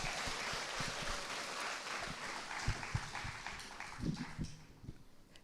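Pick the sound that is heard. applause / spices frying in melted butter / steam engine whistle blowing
applause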